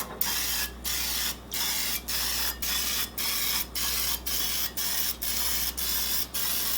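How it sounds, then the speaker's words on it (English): Misto oil sprayer spritzing a 12-cup muffin tin: a close, loud run of about a dozen short hissing sprays in quick, regular rhythm, each separated by a brief gap, with no voices. "we're going to spray our muffin tins"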